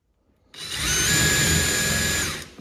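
DeWalt Xtreme 12V brushless drill running for about two seconds, spinning up sharply to a steady high whine and then winding down, close and loud on its own.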